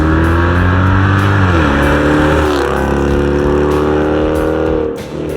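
A 2011-2020 Dodge Durango 5.7-liter V8 with a stainless catback exhaust revs loudly and steadily up close, its deep exhaust note rising and settling through several throttle blips, with no voices present.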